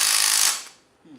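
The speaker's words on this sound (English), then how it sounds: "Get a ratchet." Ratchet wrench loosening brake caliper bolts during a rear suspension teardown, a close burst of quick pawl clicks that stops abruptly, followed by a faint short sound.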